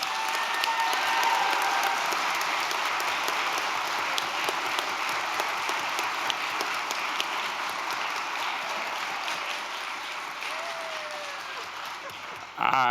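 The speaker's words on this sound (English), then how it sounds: "I think that deserves a round of applause." Steady round of audience applause at a school board meeting honoring a new superintendent, evenly sustained and moderately loud, fading slightly near the end, with a brief voice audible under it.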